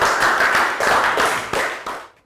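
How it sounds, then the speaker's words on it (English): Students in a Year 3 science class give a short round of applause: a brief burst of dense, close handclapping with a few stronger claps, ending abruptly. "Round of applause."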